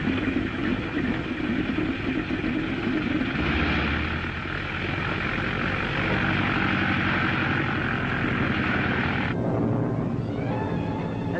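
A propeller aircraft engine drones steadily and loudly throughout, a constant throbbing roar that shifts slightly in pitch partway through.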